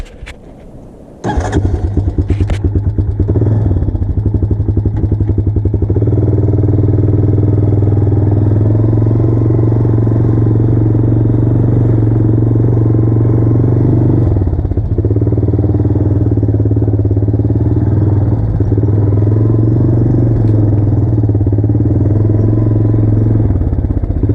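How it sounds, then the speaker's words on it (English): A four-wheeler ATV engine starts with a brief clatter and then runs at a steady, loud idling rumble close by, with small shifts in revs while riding on rural property and no talking. "I'm going to try doing this on the four-wheeler."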